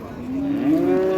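A cow moos once at a busy livestock market, a single drawn-out, rising bellow heard clearly over faint background noise.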